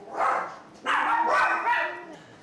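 Cocker spaniel barking in a few sharp, close yaps with short pauses, mixed with some voices in the room.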